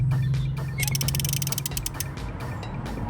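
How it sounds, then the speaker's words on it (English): A 10mm spark plug socket removes spark plugs from an Audi A3 8P engine, producing close, loud ratcheting clicks in a rapid burst over a steady low engine-bay hum. "I'm just taking out all the spark plugs now using a 10mm spark plug socket"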